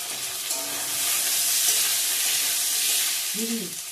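Chopped onion, garlic and tomato sizzle steadily in hot oil in a pan, a close, continuous frying hiss with faint stirring scrapes and no talking.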